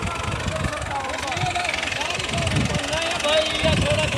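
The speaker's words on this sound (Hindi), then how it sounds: "तो ये सामने अभी लेवल कर रहे हैं इसका ट्रैक्टर के साथ।" A tractor engine running while leveling uneven farm ground, a steady close mechanical rumble with a knocking pulse, heard under someone talking.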